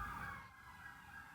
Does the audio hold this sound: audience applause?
no